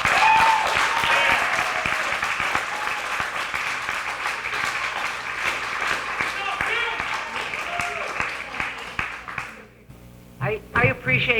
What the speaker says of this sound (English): please clap your hands if you feel free.